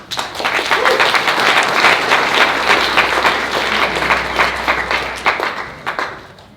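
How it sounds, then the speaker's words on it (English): A live audience at a housing-market meetup breaks into enthusiastic applause for an incoming speaker, building quickly, holding dense and loud, then thinning into a few scattered claps at the end. "So please give her a big round of applause."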